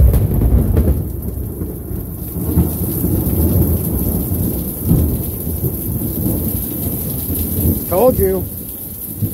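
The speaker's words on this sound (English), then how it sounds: "We're going to get some of this thunder." A heavy morning thunderstorm outside, loud rolling thunder and steady pouring rain filling the whole stretch, with someone speaking briefly near the end over the storm.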